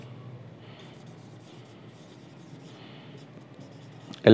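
Pen or chalk writing on a board during a chemistry lesson, heard as faint soft scratching strokes in short bursts, ending with a sharp knock.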